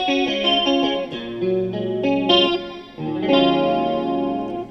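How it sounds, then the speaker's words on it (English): Clean electric guitar run through compressor and flanger pedals, with a sparkly, swirling tone: bright sustained chords and melodic notes ringing steadily with short gaps, loud and close, no voices. "I turn off my distortion pedal, turn on the compressor. There we go, and I turn my flanger on"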